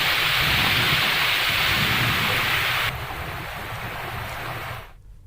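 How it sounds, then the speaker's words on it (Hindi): Steady, loud rain pours down in the Terai region of Nepal, a dense hiss that fills the scene, then drops in level partway through before cutting off abruptly; no distinct thunder crack stands out. "नेपाल के तराई क्षेत्रों में फिर से बारिश की शुरुआत हो गई है"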